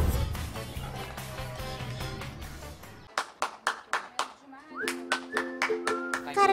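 A person claps hands at a lion's enclosure. Several sharp claps in an irregular rhythm ring out fairly close, following a stretch of background chatter and other sounds.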